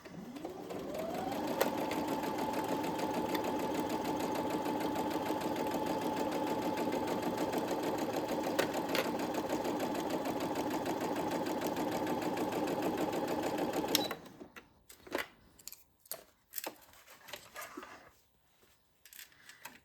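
A sewing machine stitches a zipper pouch in one long continuous run of fast, even motor buzz and needle clatter, close and steady for about fourteen seconds, then stops, leaving scattered handling clicks and taps.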